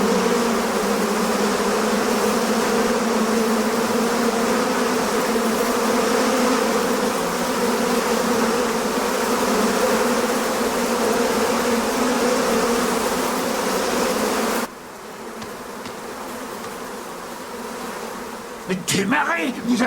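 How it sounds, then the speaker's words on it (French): A swarm of flies buzzing in a dense, continuous drone, close and loud, that cuts down abruptly near the end, leaving a faint hum and a brief scrape. "Qu'est-ce que c'est que ces mouches?"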